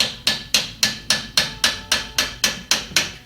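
Hammer blows tapping on a GM 14 bolt rear axle during wheel nut removal, eleven evenly spaced, sharp metallic strikes in a steady rhythm, loud and close with no voices.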